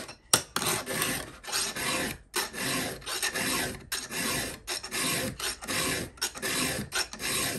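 Hand file sharpening a chainsaw chain, close-up rasping strokes in a steady back-and-forth rhythm, each stroke a loud gritty scrape with brief gaps between, alone without talk.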